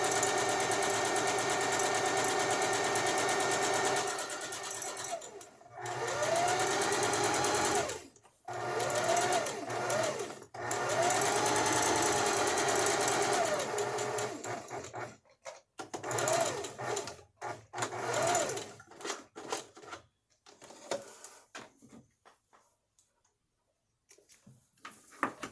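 A sewing machine runs in rapid steady bursts of stitching, its motor whirring and needle ticking, pausing for backstitches with short stops and restarts, close and loud.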